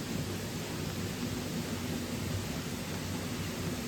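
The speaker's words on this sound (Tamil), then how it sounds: "ஆமாங்க மழை பெய்யுதுங்க." Steady rain pouring in a forest clearing near a waterfall during the monsoon, a constant hissing wash of drops filling the scene, loud and unbroken with no voices.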